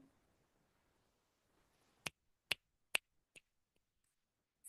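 Four sharp finger snaps, close and crisp, spaced evenly about half a second apart after a quiet pause, with a faint fifth click at the end.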